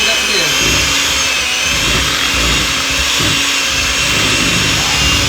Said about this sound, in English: if you got a blender, that's gonna mix up really quick.